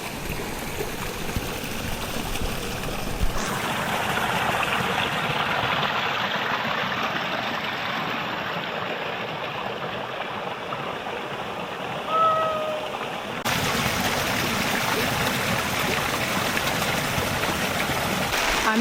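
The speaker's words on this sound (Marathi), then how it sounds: "आमच्या मागे तुम्हाला झेनेट वॉटरफॉल दिसतोय" Zenith waterfall near Khopoli running with little water after a dry spell, a steady, even rush of falling water heard from a distance and continuing unbroken throughout, with no talking.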